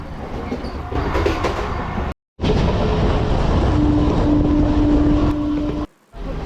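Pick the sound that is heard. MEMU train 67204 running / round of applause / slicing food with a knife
MEMU train 67204 running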